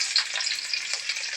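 Curry leaves crackle and sizzle in hot oil, a steady dense spitting hiss with a few sharper pops, close and fairly loud throughout the short moment, with no voices.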